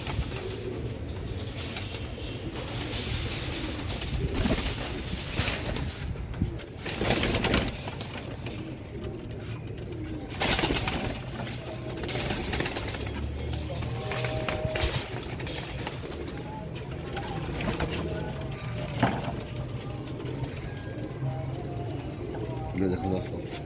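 Pet pigeons, breeder birds with white eyes, coo softly in soft repeated bursts, with someone talking over them and faint rustling and background noise throughout.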